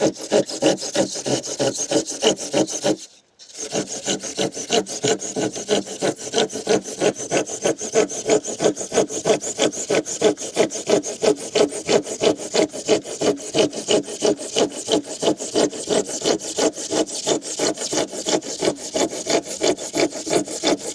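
A hand saw cuts through insulation bricks in fast, steady back-and-forth strokes that are loud and near. The strokes stop for a moment near the start and then continue without a break.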